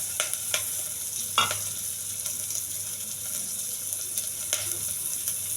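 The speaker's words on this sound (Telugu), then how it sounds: "కొంచెం దోరగా వేయించాలండి." Garlic, curry leaves and green chillies frying in a pan give a quiet, steady sizzle, with a few sharp clicks of stirring scattered through.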